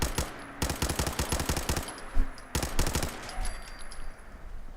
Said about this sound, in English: the pipe rifle is performing quite well. This auto pipe rifle, I've already got it mutated.